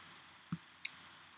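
Two crisp, faint mouse clicks on a website link, spaced about a third of a second apart, close up in a quiet room with a soft background hiss.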